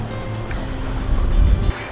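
A boat engine revs in reverse to set an anchor at about 1400 rpm, a steady low rumble that swells midway, heard alongside water and wind noise.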